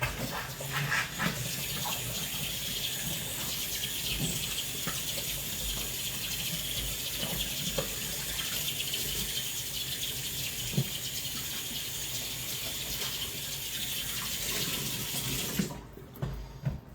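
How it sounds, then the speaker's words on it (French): A cake mould is rinsed under a running kitchen tap, giving a steady, close rush of water splashing into a sink that continues unbroken until the flow stops near the end. "Je passe mon moule sous l'eau."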